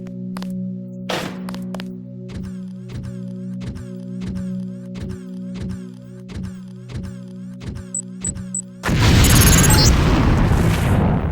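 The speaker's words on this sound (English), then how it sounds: "If you get close enough, the lamp will fall to the ground and detonate." A lamp explodes during demolition training in Deus Ex, a sudden loud blast that bursts into a dense, roaring wash of noise and holds for a couple of seconds after a long stretch of repeating rhythmic mechanical game sounds.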